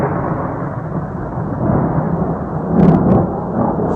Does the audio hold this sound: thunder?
yes